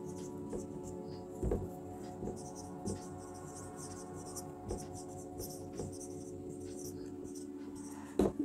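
Chalk or a marker taps and scrapes across a board in a philosophy class, giving scattered short strokes that are faint under a soft, steady room hum.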